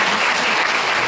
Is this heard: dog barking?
no